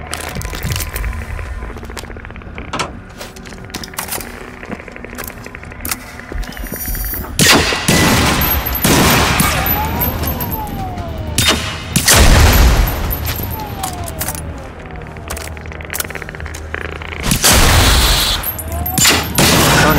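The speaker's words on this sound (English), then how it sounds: "shoot him fast enough so he'd blow up his buddy, but I didn't get it off quite fast enough" Dense gunfire from the video game Generation Zero, with repeated loud shots and booming bursts filling the scene, near and heavy, under occasional talk.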